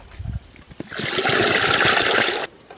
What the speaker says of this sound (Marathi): पाणी ओतूया